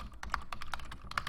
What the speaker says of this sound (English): I'm typing things.